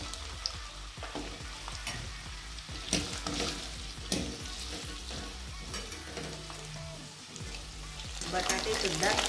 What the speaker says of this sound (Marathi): बटाट्याला आपल्याला थोडंसं फ्राय करून घ्यायचं आहे।